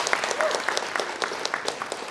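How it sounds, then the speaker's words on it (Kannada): Scattered, modest applause from an audience at a film trailer launch event, a thin patter of clapping that carries on briefly at moderate volume. "ಸೊ ಏನೋ ಸ್ವಲ್ಪ ಚಪ್ಪಾಳೆ ಕಮ್ಮಿ ಕೇಳಿಸುತ್ತೆ"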